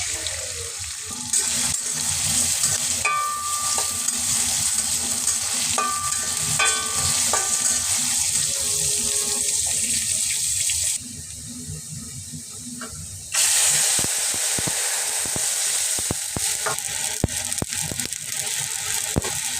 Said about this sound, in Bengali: এখন আমি বসাই দিব চিংড়ি ভুনা। প্রথমে তেল দিয়ে দিব।